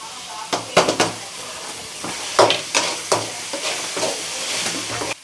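Ginger paste hisses and sizzles in a hot pan of mutton curry base, with repeated stirring scrapes and clanks of a spoon against the metal cutting sharply through the frying.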